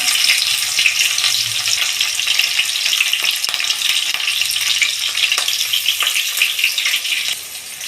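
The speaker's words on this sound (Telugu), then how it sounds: "సన్నగా కట్ చేసి పెట్టిన ఎర్రగడ్డ ముక్కలు పచ్చిమిర్చి రెండు వేసుకుంటాం" Onion slices and two green chilies hit hot oil in a pan after mustard seeds have popped, giving a loud, steady, close-up sizzle with fine crackles throughout, no voices.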